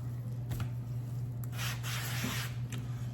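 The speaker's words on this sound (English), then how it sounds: "Spray a little bit of that on there on both sides." Avocado oil spritzed from a spray bottle onto a whole prime beef tenderloin, a few short airy hisses close by over a steady low hum.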